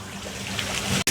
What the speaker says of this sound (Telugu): ఈ లోపల పోస్తుంటే నీళ్ళు ఇదిగోండి ఈ హోల్ నుంచి బయటకు వచ్చేస్తున్నాయి